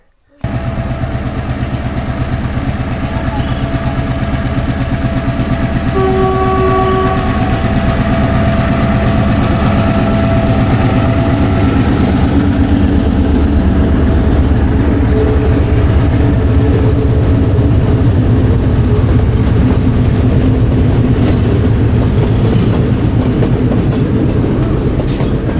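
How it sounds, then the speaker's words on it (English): A train rumbles steadily across the Nine Arches Bridge, its engine drone and clickety-clack of wagons loud and sustained for the whole stretch, with brief tonal horn-like notes early on. "Back up and catch the train."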